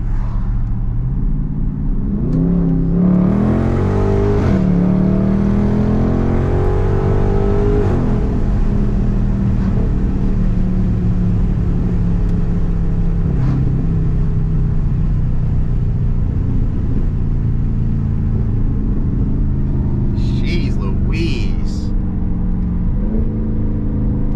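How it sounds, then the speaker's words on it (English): A Dodge Charger Daytona 392 V8 revs up through a rising engine note, drops pitch on a paddle-shifted gear change, then settles into a loud, steady cabin drone with a brief chirp near the end. "I'm gonna hold the left paddle twice, and it should switch it to its optimum gear and then shift automatically"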